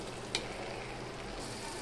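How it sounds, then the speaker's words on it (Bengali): A banana flower and prawn curry sizzles steadily in a pan while being stirred, producing a continuous close frying hiss with one brief clink of the spoon near the start. "এবার আমি তরকারিটা একটু নেড়ে দিলাম"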